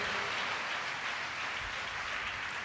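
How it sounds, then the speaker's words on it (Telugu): Steady applause from a church congregation at a Hosanna Ministries worship service, a dense, continuous wash of clapping held evenly throughout with no voices over it. "చప్పట్లు కూడా దేవునికి స్తోత్రం చెప్పండి"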